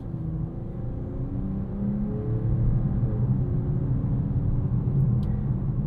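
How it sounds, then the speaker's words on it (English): Mercedes-AMG E53 wagon with an inline-6 and 9-speed gearbox accelerating, a smooth low engine drone from the cabin that swells and rises through a gear change, steady and unbroken. "once that Inline-6 does turn on, it is silky smooth, as well as the 9-speed gearbox"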